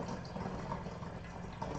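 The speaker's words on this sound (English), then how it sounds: "Is that the water sound? Is that water?" Water being poured while making coffee, a continuous, fairly faint gurgling trickle of liquid filling a container, steady throughout the short moment with no talking.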